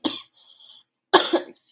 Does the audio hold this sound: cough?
yes